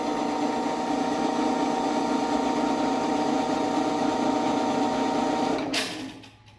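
A Genie GS-920 track drive running along a rail produces a steady, continuous mechanical whir and hum at close range for several seconds, then winds down and stops abruptly, leaving a quiet tail.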